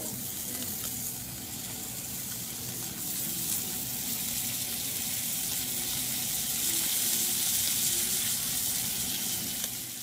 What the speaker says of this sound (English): Gonna add butter to the pan now.